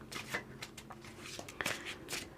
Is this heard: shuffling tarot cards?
yes